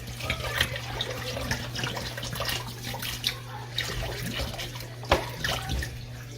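Bottled water poured into a crock pot while making posole, a soft continuous trickling splash with a few sharper clinks, fairly quiet over a steady low electrical hum, with no talking.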